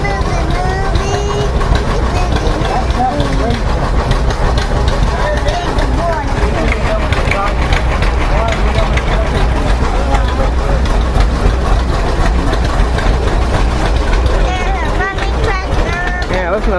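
A running John Deere tractor engine thrums steadily at a show in New York, a continuous low rumble under crowd chatter and nearby voices throughout.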